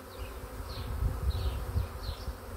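Honeybee swarm arriving at a hive, a steady dense buzzing hum with several louder passes of individual bees drifting close, continuous throughout and no voices.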